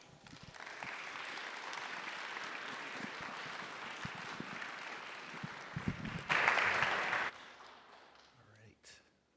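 An audience applauds to welcome speaker Bruce Wydick at a conference, steady clapping that swells into a louder burst before quickly fading to silence.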